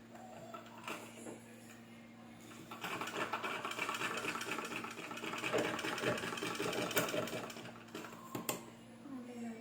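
A sewing machine stitches a frock bodice, first in short starts, then in a steady, fast mechanical whir for several seconds before slowing with a few clicks near the end.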